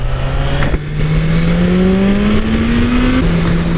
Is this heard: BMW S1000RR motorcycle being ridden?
yes